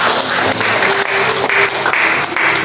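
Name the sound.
applause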